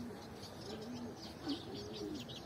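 High-flying pigeons, including young birds in a loft, coo softly in low, repeated murmurs, faint and steady with light chirps mixed in and no talk.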